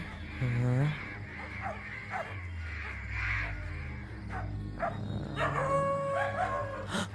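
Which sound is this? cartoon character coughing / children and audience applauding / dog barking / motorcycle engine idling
dog barking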